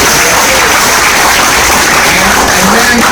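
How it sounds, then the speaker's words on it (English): Audience applause at a film promotion event for xXx: Return of Xander Cage, a dense, steady wash of clapping filling the whole stretch at close, loud level. "A round of applause."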